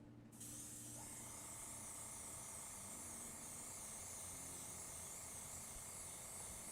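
An airbrush sprays a thick second coat of paint onto a 3D printed Darth Vader can cozy, a continuous close, even hiss starting abruptly after a brief quiet moment and holding steady to the end.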